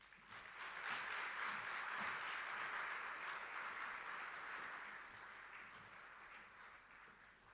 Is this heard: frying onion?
no